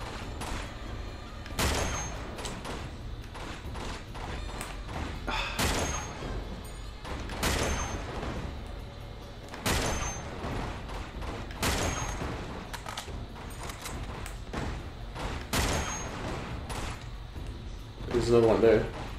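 Gunfire in the video game Uncharted 2: Among Thieves, with bursts of shots and sharp impacts in irregular clusters that run steadily under nearly continuous conversation between players.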